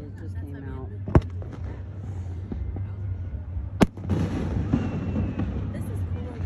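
Fireworks over water seen from a new pontoon boat: two sharp, distant booms stand out over a low steady hum and scattered crackle, while people talk nearby.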